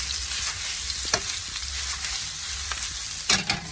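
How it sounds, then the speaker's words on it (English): Meat for Sunday gravy sizzles and fries in a pan as it browns on all sides, a steady crackle with occasional sharper pops and stirring clatters. "Just getting them brown on all sides"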